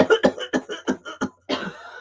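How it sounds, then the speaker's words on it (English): A woman gives a quick string of about six short, sharp coughs close up, followed by a brief pause and one longer, rougher cough. "See, she coughs on demand."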